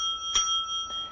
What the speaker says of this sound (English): When your time is up, you'll hear this bell.